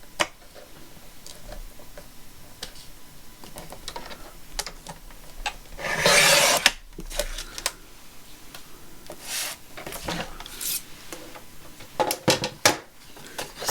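Paper being trimmed for a mini notebook folio, with soft scattered ticks and handling rustles and a longer sliding cutting rasp near the middle, followed by further light paper shuffling.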